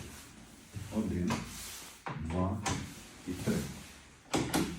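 A PVC interior door with a three-point lock, pressing shut at top, middle and bottom, gives several close knocks and latch clunks as it is worked, with someone talking over it.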